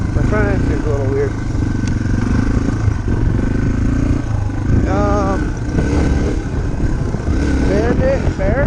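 A dirt bike engine runs steadily throughout a ride, up close with rough clattering mechanical noise, while someone talks over it and the engine pitch shifts as he rides.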